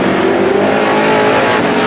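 Race cars roar past at close range during a feature race at Star Speedway, a loud continuous engine drone that holds steady throughout with no voices.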